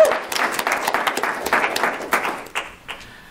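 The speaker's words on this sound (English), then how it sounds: "Let's give a round of applause for Miss Linda" Applause for a presenter at an EV expo, a dense burst of clapping from a crowd that starts strong and gradually thins and fades over a few seconds.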